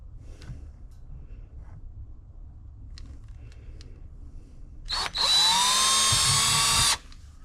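While a small LiFePO4 inverter solar power station is being built, a power drill bores a small hole with one sharp whirring burst of about two seconds. Quiet handling noises come before it.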